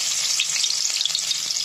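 Chopped onions frying in hot oil in a pan: a dense, bright, steady sizzle with faint crackles, close and unbroken, no speech.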